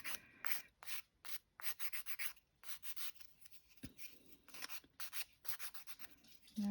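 Rhythmic scratchy strokes of a nail file sanding the edges of a small craft piece for a shell display case, close and repeated in quick bursts with short pauses between.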